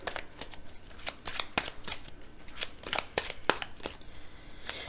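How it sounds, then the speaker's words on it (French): Tarot cards are shuffled close by, a run of crisp riffling flutters and snaps repeating at an uneven pace with brief pauses, with no talking. "je vais rajouter des cartes pour clarifier un peu"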